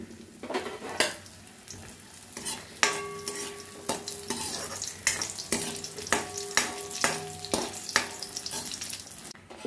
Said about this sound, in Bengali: গরম হয়ে গেছে আমি দিয়ে একটু বড়িটা ভেজে তুলে রাখবো।